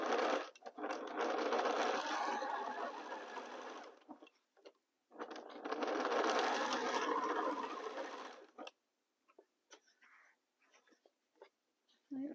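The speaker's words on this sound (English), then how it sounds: "Now let's start sewing the other side." A sewing machine stitches a seam in two long, steady whirring runs of about four seconds each, separated by a short pause, followed by quieter handling sounds and near silence.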